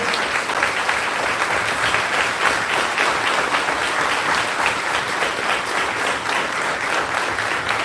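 A church congregation gives the Lord a loud, sustained round of applause, dense steady clapping filling the whole stretch at close range with no talk over it.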